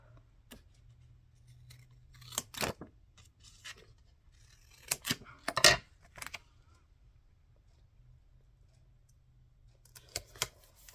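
Scissors snip paper while a retro journal is being assembled, heard as a few crisp, close cutting clicks in separate bursts. Quiet pauses fall between the snips, with no talking.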